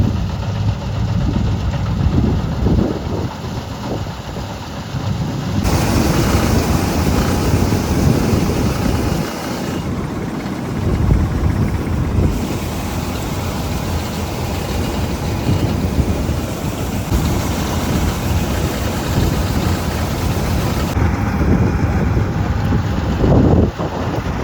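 A harvesting machine runs steadily in a wheat field, a continuous loud engine drone heard up close for the whole stretch, with wind buffeting the microphone and no talking.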